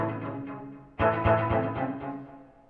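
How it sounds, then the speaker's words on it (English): A dynamic delay effect on a HeadRush pedalboard run through an amp clip: a faint decaying guitar tail fades out, then a new strummed chord rings out loudly with repeating echoes trailing behind it. "We have a dynamic delay."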